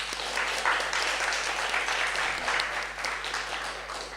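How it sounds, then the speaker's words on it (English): Audience applause for Dr. Lord at a symposium on Caribbean speculative fiction, an even round of clapping from a hall, fairly distant and steady, with a faint low hum underneath. "Please join with me in giving Dr. Lord another round of applause."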